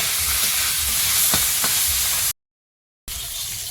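Small puti fish sizzle lightly in hot oil in a pan, with a steady close frying hiss and a few soft stirring clicks, broken by a brief moment of silence.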